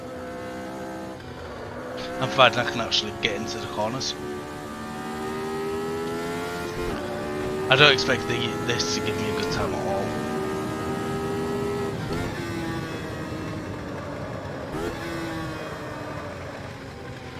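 Race car engine in a racing video game, lapping the Red Bull Ring: a droning engine note rising and falling through shifts and corners, with someone talking over it.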